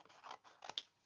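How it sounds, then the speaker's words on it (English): Small scissors snip paper during fussy cutting for an art journal, a few quick close, quiet cuts in a short burst with no talking. "I'm picking out some small scissors and we do some fussy cutting."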